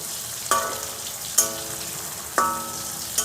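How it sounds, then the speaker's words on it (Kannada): Paneer cubes frying slowly in hot oil in a pan, a soft steady sizzle with a few sharp crackles and pops spaced out, fairly quiet with no talking. "ಈ ಥರ ನಿಧಾನಕ್ಕೆ ಹುರ್ಕೋಬೇಕು, ಫ್ರೈ ಮಾಡ್ಕೋಬೇಕು ಇದನ್ನು."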